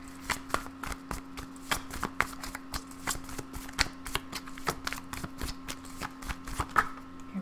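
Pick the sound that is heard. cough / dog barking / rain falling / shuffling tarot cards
shuffling tarot cards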